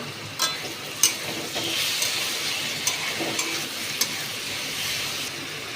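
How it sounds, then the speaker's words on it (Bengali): Tomato, ginger and garlic paste being stir-fried with frying potatoes gives a steady sizzle with scattered sharp scrapes and clicks of stirring, close and fairly quiet, with no talk. "দেখো এবার আমি আগে থেকে বেটে রাখা টমেটো আদা রসুনের পেস্টটা এর আলু ভাজার মধ্যে দিয়ে দিলাম।"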